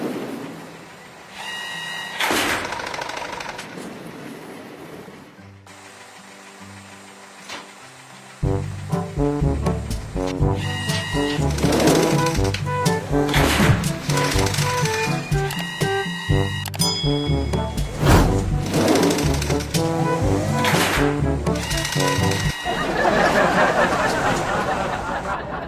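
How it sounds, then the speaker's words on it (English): A cartoon track laying machine putting down rails and sleepers, loud repeated mechanical clanks and thumps in a steady rhythm with horn-like tones and whirring, close and continuous. "Let's lay rails and sleepers."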